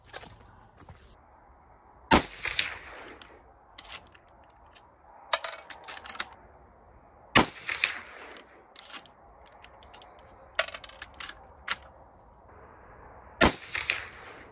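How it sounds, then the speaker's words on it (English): Three sharp shots from a Marlin 336 Glenfield trapper lever-action rifle in 30-30 with skinner sights ring out several seconds apart, each one loud and crisp, with the lever's metallic clacks and handling noises in between. "we'll give her 3 shots and see what happens"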